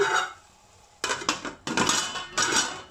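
A metal plate is set on top of a cooking pot while moong dal tadka cooks, giving a few sharp clanks and rattles in quick succession, close and loud.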